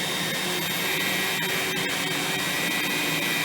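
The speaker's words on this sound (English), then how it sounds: "And now it's going to turn on the brush roll." An Electrolux Guardian upright vacuum runs with its brush roll engaged, giving a loud, steady whirring roar close by for the whole stretch, with no talking.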